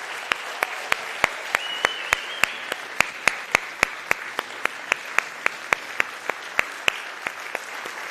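Audience applause for honorees at a Boynton Beach, Florida State of the City address, a steady wash of clapping from a crowd with regular sharp claps cutting through throughout.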